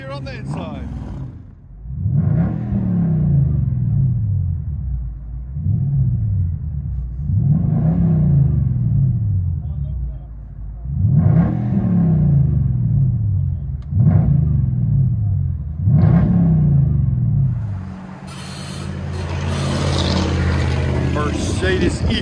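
Inside the cabin of a 2009 Mercedes-Benz E550 AMG with a supercharged 5.4L V8 and straight-piped true dual exhaust, the engine is blipped about seven times in quick succession, each a deep booming rise and fall, followed by a rumbling idle with clatter.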